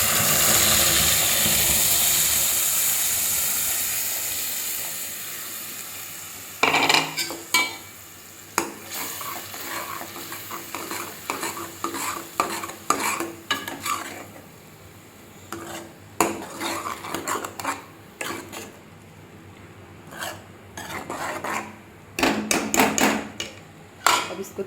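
Tomato paste hits a pan of frying cumin with a loud hiss that fades, then a spoon clatters and scrapes repeatedly against the metal pan in irregular bursts as the mixture is stirred.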